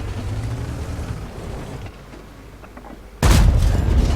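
A tank's main gun fires in World of Tanks, a Skoda T56, giving one loud, sudden booming blast near the end after quieter rumbling battle noise.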